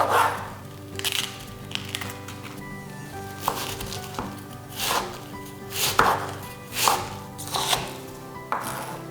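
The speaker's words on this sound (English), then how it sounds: "chop up your purple or red cabbage" Knife chopping purple cabbage into bite-sized pieces on a cutting board, a steady series of sharp, close chops in short bursts with brief pauses, heard alone.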